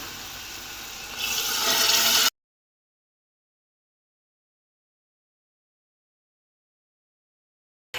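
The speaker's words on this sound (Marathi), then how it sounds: "आता तुम्हाला कितपत पाणी पाहिजे त्या अंदाजानुसार तुम्ही पाणी वापरा यामध्ये" Water poured into a pan of chickpea curry with onion-garlic paste, a steady splashing pour that swells louder for about two seconds, then cuts to silence.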